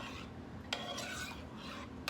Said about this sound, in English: I'm gonna just give that a quick little stir